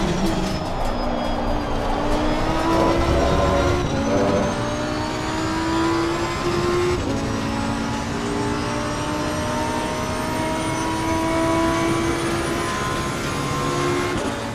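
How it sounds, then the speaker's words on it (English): An Audi R8 GT2 race car in Assetto Corsa Competizione at the Red Bull Ring, its engine droning steadily and rising through the revs in long pulls with brief dips at gear changes, loud and alone without talk. "let you have a little bit of a listen to the engine sound"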